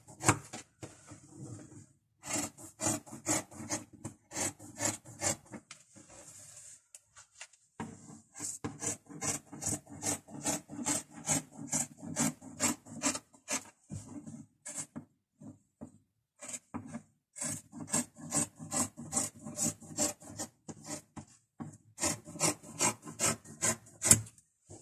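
Fabric being cut for a coat, heard as long runs of rhythmic rasping, scraping strokes close by, fast and regular with brief pauses between bursts.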